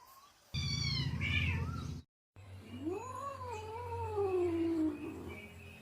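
A pet cat named Chitti meows loudly and close by, with a drawn-out wavering call, a short silent gap, and then another long rising and falling caterwaul.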